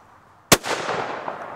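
A single sharp shotgun blast at a clay target, loud and close, followed by a long echoing tail that fades across open ground.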